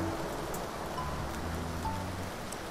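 Rain in the video game Shashingo, a dense steady wash of falling drops with faint soft ticks, even and moderately quiet, with no voices over it.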